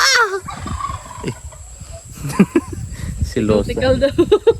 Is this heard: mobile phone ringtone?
no